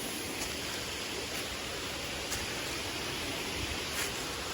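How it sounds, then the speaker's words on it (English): A waterfall rushes steadily at the top of a big falls in the Appalachian Mountains, a dense, even wash of noise that stays constant and fairly quiet throughout. "Right here, we're at the top of the big falls."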